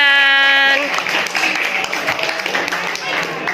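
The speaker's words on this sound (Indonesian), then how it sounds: "Aplaus buat kelompok 9." A Grade 12 maths class at a Surakarta high school claps for group 9. A voice is heard briefly, then a crisp, sustained round of many hands clapping continues fairly close until the end.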